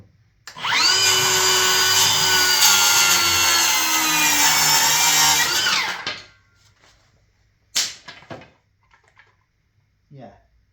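Cordless circular saw, a Milwaukee or Makita 18V, ripping through MDF: a loud close whine that sags under load for about five seconds, then winds down, followed by scattered clatter and a faint voice.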